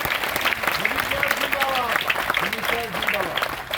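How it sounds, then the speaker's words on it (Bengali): An audience claps in a dense, sustained burst of applause, with voices calling out over the clapping throughout. "সমীর মোদির জন্য একটা জোরদার হাততালি হয়ে যায়।"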